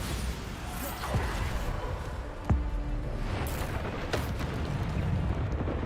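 A Bombarda spell blasts in a wizarding video game, a dense rumbling eruption with several sharp booming impacts and whooshes over a constant low roar.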